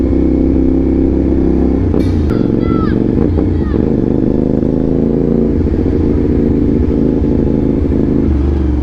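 A CFMoto 450SR motorcycle with a modified exhaust idles and rumbles with a loud, steady exhaust note, joined by brief clatter and tricycle traffic noise nearby.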